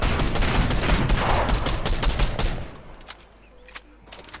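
Dense gunfire in Fortnite, rapid overlapping shots for a few seconds, then scattered single shots further off, with some voices in the background.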